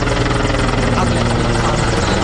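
Helicopter over an air force base during a militant attack, a loud, steady, close rotor and engine roar that continues without a break through the whole stretch, with no talk.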